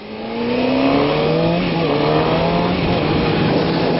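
A loud motorcycle engine revs and accelerates steadily on a race track, a continuous rising roar filling the whole moment, close by.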